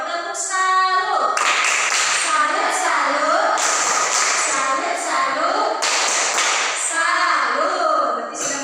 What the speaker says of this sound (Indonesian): Tepuk salut dulu untuk mereka berdua.